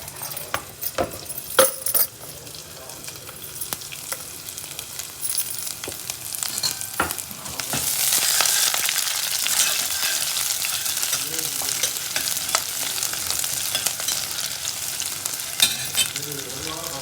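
Finely chopped garlic, dropped into a pan with curry leaves and chillies for prawn curry, sizzles and fries steadily, with a few stirring clinks early on before the hiss swells and holds loud and continuous.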